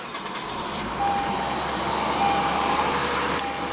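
The 3.5-liter V6 of a 2015 Lexus RC350 runs close by with a steady, low idle rumble; it rises briefly at about one second, with a faint tonal whine over the hum.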